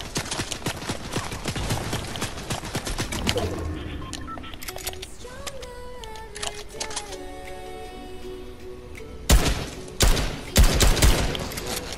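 Gunfire in a Fortnite solo match: rapid clattering shots early, a calmer stretch of game effects, then several loud, sharp sniper cracks near the end, with no talk.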